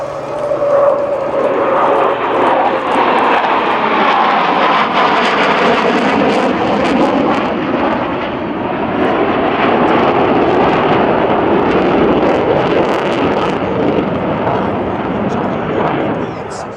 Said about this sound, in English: the F-15 Eagle.